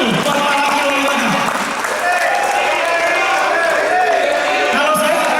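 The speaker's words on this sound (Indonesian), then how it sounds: "Tepuk tangan dulu buat Pak Wakil Wali Kota." Audience applause at the closing ceremony of a national coordination meeting, a dense, loud, sustained round of clapping from a large crowd filling the room for several seconds.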